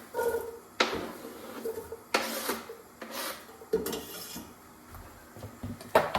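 Olive oil and chopped onion going into a pot that just held boiled octopus, heard as scattered scraping, rubbing and clattering knocks of utensils against cookware, close and uneven with no talk.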